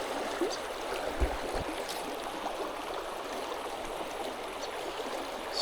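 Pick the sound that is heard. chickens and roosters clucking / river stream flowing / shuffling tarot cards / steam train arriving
river stream flowing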